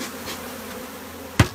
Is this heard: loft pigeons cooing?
no